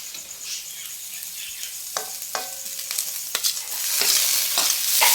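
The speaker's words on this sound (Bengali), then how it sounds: "আচ্ছা এবার টমেটোটা দিলাম।" Tomatoes drop into a hot frying pan for Kolkata-style ghugni and sizzle steadily, with scraping stirs and clinks of a utensil, the frying hiss swelling louder toward the end.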